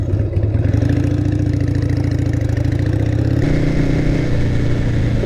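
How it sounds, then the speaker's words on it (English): A motorcycle engine held at high revs, a loud, steady, close drone with a dense rumbling roar; the pitch drops slightly partway through, and distinct exhaust pops are not clearly separable. "If you get it revved up enough,"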